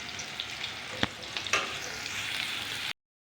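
Garlic paste sizzles steadily in hot oil while bottle gourd curry is being cooked, with a few sharp spatula clicks and a louder crackle burst in the middle before the sound cuts off abruptly.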